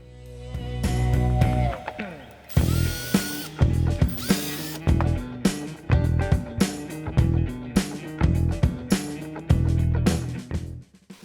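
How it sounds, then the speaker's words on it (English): A cordless drill twists stripped copper wires together in a workshop, with repeated loud bursts of whirring motor that start and stop in quick succession, separated by brief pauses and mechanical clicks. "Take two of these and twist them with your cordless drill."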